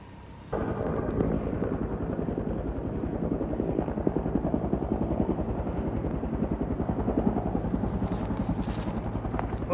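A floatplane on pontoons takes off from a lake in the West Canada Lake wilderness, its engine starting abruptly and then holding a steady, loud, throbbing drone that continues throughout, with no talk.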